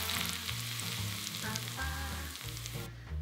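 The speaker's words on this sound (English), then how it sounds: "Add the hot oil over the garlic and finger hot pepper." Smoking-hot avocado oil is poured over garlic and finger hot pepper for a spiral cucumber salad, setting off a loud, close sizzle that crackles, then fades as the oil settles.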